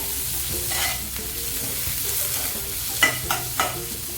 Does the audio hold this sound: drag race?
no